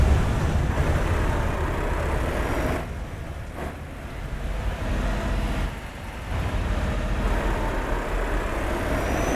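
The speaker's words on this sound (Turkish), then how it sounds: "Yandan geç arabaların sesini duyalım." Passing cars heard through an open truck window in Euro Truck Simulator 2: a continuous road rumble and engine drone, with a couple of brief dips as vehicles go by, no talking.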